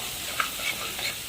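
Hing and turmeric sauté gently in oil for a dal tadka, giving a soft, continuous sizzle with a few light scraping stirs.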